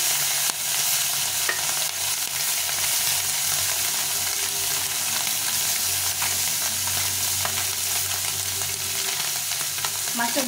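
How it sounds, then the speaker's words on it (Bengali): Small fish frying in a little oil in a pan, with a steady, close, dense sizzle and crackle and occasional stirring sounds throughout, with no talk. "মাছটা দুবারে ভাজবো, একবারে"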